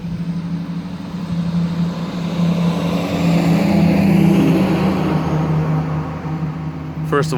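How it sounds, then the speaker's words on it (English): A truck rolls past outdoors, a broad low rumble that swells toward the middle and slowly fades, with a steady engine hum throughout and no talking over it. "let's wait for that truck to pass by"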